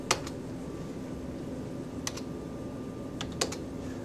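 A few sharp, isolated key clicks from a computer keyboard as a short command is entered in a drafting program, close and fairly crisp over a steady background hum.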